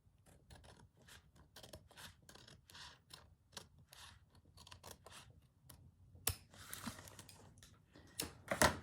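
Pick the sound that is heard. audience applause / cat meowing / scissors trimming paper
scissors trimming paper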